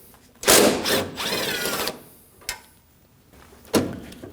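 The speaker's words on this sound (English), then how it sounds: "We can go ahead and remove these using a T45 Torx bit." A power driver with a T45 Torx bit backing out tailgate latch bolts on a 2009-2014 Ford F-150, two close whirring bursts with rising pitch, then short clicks and metallic knocks.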